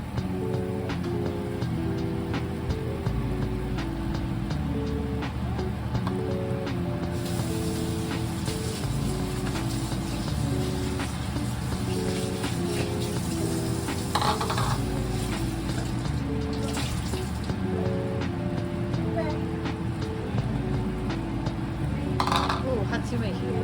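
Metal utensil clinking and scraping in a pot of simmering black pepper sauce, a busy rhythmic stirring with bubbling beneath, under a person talking.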